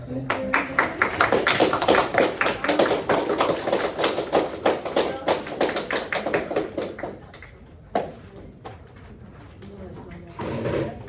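A class performs a rhythmic name clap, a group clapping in quick, steady unison for about seven seconds before the claps thin out and fade, with voices in the room afterward.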